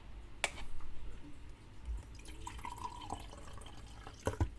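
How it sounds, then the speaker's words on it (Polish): Water mixed with glue from a cut-open squishy toy is poured into a cup, giving a short, close trickle followed by a few scattered drips and splashes. "Nawet może przeleję do kubka, żeby było."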